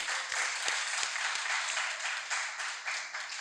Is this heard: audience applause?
yes